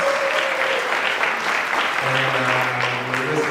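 A crowd applauds at a Trinidad and Tobago Independence event, sustained clapping filling the space evenly, with a faint tonal hum of voices or music running beneath.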